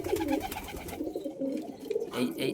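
Domestic pigeons cooing close by in a loft, soft repeated throaty coos rolling in and out, with a little background noise and no clear speech.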